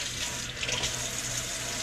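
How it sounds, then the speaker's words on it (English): Tap water running steadily into a sink as a GoPro tripod is washed, a close, continuous hissing splash with small shifts as the object moves under the stream. "So we gave the GoPro a good scrubbing with some Dawn dishwashing liquid."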